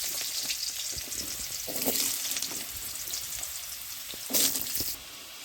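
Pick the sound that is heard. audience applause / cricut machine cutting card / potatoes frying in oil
potatoes frying in oil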